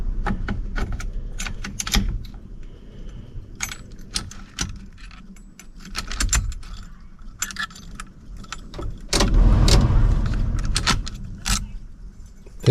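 Keys jangle and metal clicks as a new lock cylinder is fitted into the steering column of a Squarebody truck. Several close, sharp rattles are followed by a louder clatter of the parts going into place.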